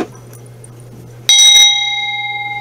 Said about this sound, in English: we have a new bell for my wife, and this bell is a fairly new piece